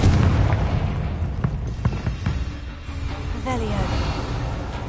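A Confringo fire spell detonates in Hogwarts Legacy, a heavy boom opening loud, then fading into rumbling game effects with a few sharp hits and faint tonal chimes behind.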